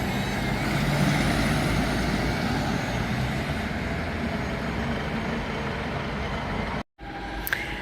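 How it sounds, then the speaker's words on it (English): An Alexander Dennis Enviro 200 bus pulls away, its engine a steady, loud rumble with broad road noise for about seven seconds, then a brief gap before a faint high whine. "Something's leaving, and it's a greener bus, cleaner air, Enviro 200."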